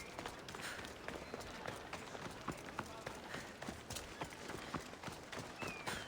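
A horse gallops in Assassin's Creed Odyssey, with quick rhythmic hoofbeats clip-clopping steadily and fairly close throughout, while quiet speech sits under the hooves.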